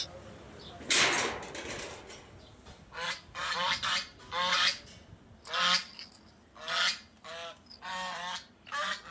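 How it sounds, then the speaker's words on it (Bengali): Geese honking in the open-air seating of a Dhaka restaurant, a rapid series of loud, close honks in uneven bursts, one long blast followed by repeated calls. "আমরা হাঁস দেখতে পাচ্ছি, রাজহাঁস।"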